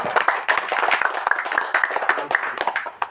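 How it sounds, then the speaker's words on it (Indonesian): Clapping from a small audience at an Indonesian village tourism monitoring and evaluation meeting, irregular hand claps spread over a few seconds, moderately close, with some voices mixed in. "Tepuk tangan."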